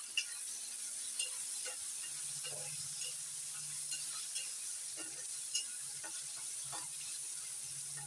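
Chopped potato fries in a pan for a Marathi radish bhaji, a faint steady sizzle with scattered soft clicks and scrapes of stirring throughout.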